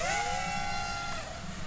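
An Eachine Novice FPV drone's motors buzz steadily through a simple roll, a loud sustained whine with a pitch that rises then dips slightly, over broad rumbling noise and frame resonance.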